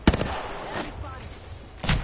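Gunfire in Apex Legends, a battle royale shooter: a sharp close shot at the start and another near the end, with softer reports between, over a mix of voices talking.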